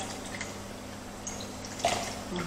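Juice poured into a small plastic bag, a soft trickling, splashing pour that swells near the end over a faint steady background hum, close and fairly quiet.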